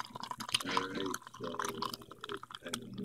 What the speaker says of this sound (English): I'm going to add my water.